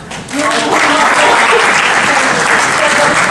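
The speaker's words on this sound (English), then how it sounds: "maybe we can give Chris a round of applause" Loud, dense applause fills a room at a rail planning and response presentation in Bakersfield, swelling up after a brief quieter moment and holding steady to the end.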